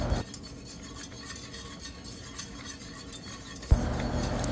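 Strawberry jam at a rolling boil, stirred in a pot as it thickens: a steady dense bubbling hiss with soft scraping of the spoon, a sharp clink near the end, no voices.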